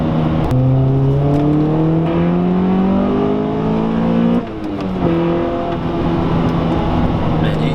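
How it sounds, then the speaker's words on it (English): A Honda Prelude VTEC engine revs hard, its harmonic tone climbing steadily, then briefly drops and resumes at a higher, sharper pitch as VTEC engages and it keeps pulling. "You've got an on-off switch almost with VTEC, and the engine changes tone."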